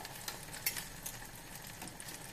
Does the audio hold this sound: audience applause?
no